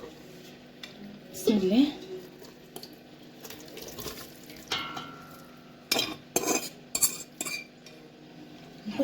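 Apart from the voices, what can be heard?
pouring meat mixture into a mold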